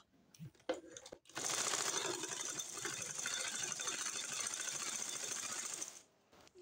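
Sewing machine stitching a flower onto ribbon for a blouse, a close steady whirring rattle running for about five seconds after a few soft clicks, then stopping.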